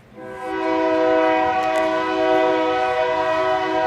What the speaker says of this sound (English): there are train tracks running night and day there. Trains everywhere.